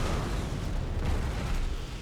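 Cannon artillery fires in a Napoleon: Total War battle as a dense, rumbling barrage of low booms. It sounds continuous and distant rather than like sharp single shots, with no voices over it.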